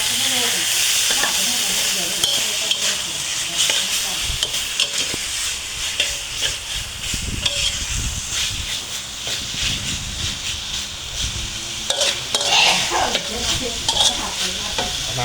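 Beef stir-frying in a wok with red curry paste, krachai and green peppercorns, giving a loud, steady sizzle with repeated scraping stir strokes throughout, no voices.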